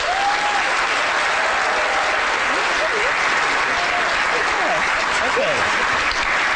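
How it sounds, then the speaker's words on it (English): A lecture audience applauds loudly and steadily for a trainer and her dog. The dense clapping runs without pause, with whistles or cheering voices rising through it. "a big round of applause for Morgan and Venetia"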